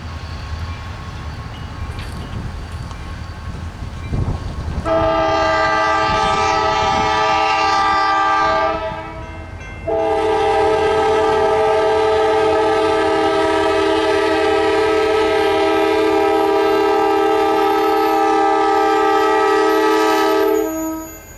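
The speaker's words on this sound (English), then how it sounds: "The engine is now performing what is called a runaround move." An AWRR ballast train locomotive in Bertram, Texas, performs a runaround move, with low rumbling at first, then a loud horn blast around five seconds, a brief pause, and a second long sustained horn lasting about eleven seconds before cutting off.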